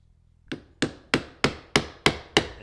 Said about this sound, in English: the chisel as I chop it.